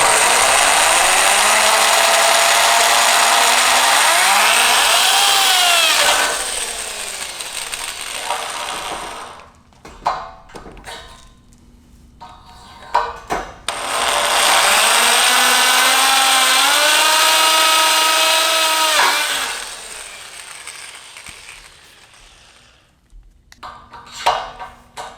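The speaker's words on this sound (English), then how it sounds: "So I'm going to drill the first hole, put the recovery boards up, level it, and then drill the second hole." A power drill bores holes for a custom overland bed rack on a 2019 third-generation Toyota Tacoma, two long sustained whining runs with rising pitch, each followed by short clicks and taps of handling between them.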